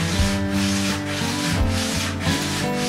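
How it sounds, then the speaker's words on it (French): A wooden guitar brace for a baritone guitar rubbed back and forth on a sanding jig, producing a continuous loud abrasive rasp with a steady stroke rhythm, close up and without talk. "je le passe au gabarit de ponçage"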